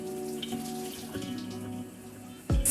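Tap water runs steadily over locks being rinsed in a sink, a continuous close splashing wash with a sudden louder gush near the end.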